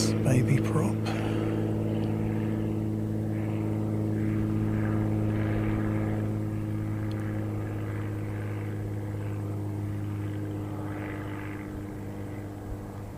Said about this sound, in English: We've got a little private aircraft coming in for a landing here.